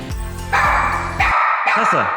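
A dog barks several times in quick succession, loud and close indoors, with people talking around it.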